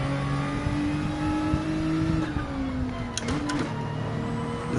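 Car engine in Gran Turismo 7 revving through the gears, a steady mid-pitched drone that sags briefly with a shift then climbs again, with a few short clicks near the end.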